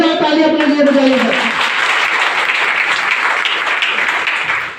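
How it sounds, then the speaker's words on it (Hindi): A business-meeting audience in India breaks into loud, dense applause that starts after a brief trailing voice and carries on steadily to the end, slowly fading. "एक बार जोरदार ताली अपने लिए बजाइएगा।"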